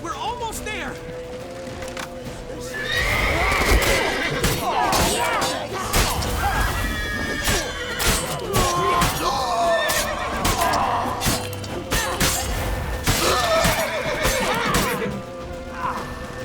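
Horses neigh loudly and repeatedly over galloping hooves and crashing impacts during a chaotic Witcher 3: Wild Hunt chase scene set in Novigrad, with characters shouting over the action.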